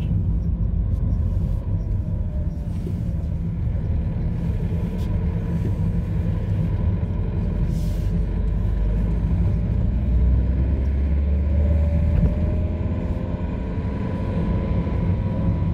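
A car drives through a 30 km/h zone near a driving test centre in Achères. A steady low engine and road rumble continues throughout at close range, with no speech.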